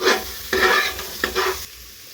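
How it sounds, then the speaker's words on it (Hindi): Vegetables for khichdi are stirred and fried in a pan, with three or four distinct bursts of scraping and sizzling separated by short quieter gaps, close up, with no voices. "तो इनको सबसे पहले चला के कुछ देर तक भून लेते हैं।"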